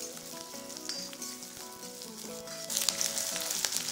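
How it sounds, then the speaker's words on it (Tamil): Onions with fennel, cloves and cinnamon sizzle steadily in hot oil in a pan, a continuous close frying hiss with faint stirring clinks, growing slightly louder toward the end. "இதையும் சேர்த்து நல்லா வதக்கிக்கலாம்."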